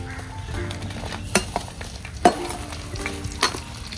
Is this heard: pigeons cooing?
no